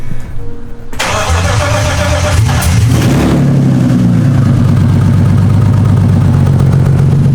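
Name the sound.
BMW E30 S52 engine idling with open headers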